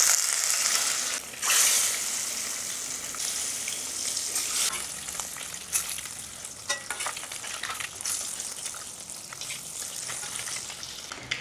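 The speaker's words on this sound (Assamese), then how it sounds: "কণীকেইটা ফ্ৰাই কৰি ল'ম।" Boiled eggs fry in hot mustard oil with turmeric in a wok, giving a loud, dense, continuous sizzle and hiss with occasional stirring scrapes. It is close and steady throughout, and no one speaks.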